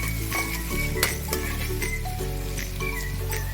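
Chopped onion sautéing in a pan for egg curry, a steady low sizzle with occasional stirring scrapes and light clinks of a spoon against the pan, close by and without talk.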